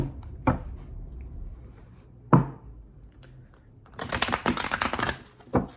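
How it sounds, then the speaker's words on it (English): A brand new, stiff deck of playing cards is riffle-shuffled: a quick, dense burst of crisp flutter and snapping near the end, after a few isolated knocks and taps. "This deck is so tight. Brand new deck. I need to break it in. It's very hard to shuffle."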